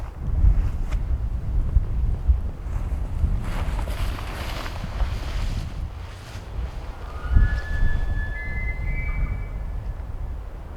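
Strong wind buffets the microphone continuously through the clip, gusting in heavy low rumbles during an elk hunt outdoors, with a few faint high tonal squeaks near the end.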